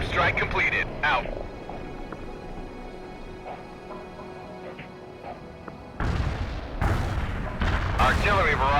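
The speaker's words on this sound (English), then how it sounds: "Artillery barrage turned the target area into dust." Artillery barrage in the video game World in Conflict, heavy booming impacts and crashes landing in bursts at the start and again loudly toward the end, with a rumbling quieter stretch between.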